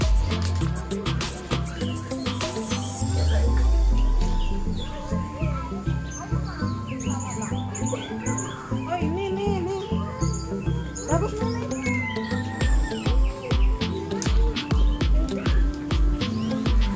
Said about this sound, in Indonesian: Suara air mengalir ditambah kicauan burung rasnya menyejukkan dan ingin berlama-lama di kandang aviari